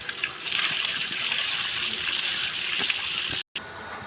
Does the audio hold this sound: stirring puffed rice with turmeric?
no